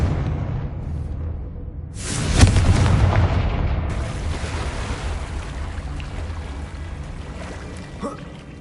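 In the video game Hogwarts Legacy, a Confringo blasting spell erupts with a sudden deep explosive boom that rolls into a long rumbling roar and slowly fades, heard alone with no talking.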